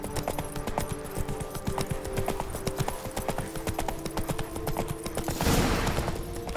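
Roach, the horse in The Witcher 3, trots along with steady, rhythmic hoof clip-clops on a hard surface, joined by a brief burst of rustling noise near the end.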